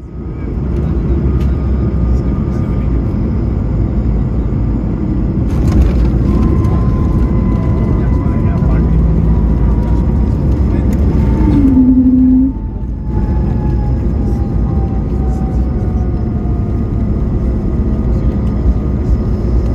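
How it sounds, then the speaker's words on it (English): Cabin sound aboard an Air Baltic Airbus A220 airliner landing in Vienna: a loud, steady roar of engines and airflow throughout, with a brief thump and tonal whine midway as the aircraft settles. "as always we are of course going to look at and listen to the landing with the original sound. So here is the landing in Vienna."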